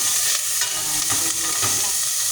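Onions browning in a pan for a squash stew crackle and sizzle loudly and closely, with several scraping stirs breaking through the steady frying noise and no voices.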